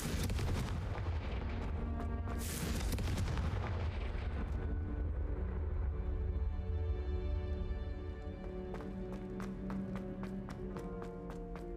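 A Confringo blasting spell fired in Hogwarts Legacy, giving loud booming impacts and crackling bursts that fill the first half, then fade into a run of sharp, evenly spaced clicks and taps, with no talking.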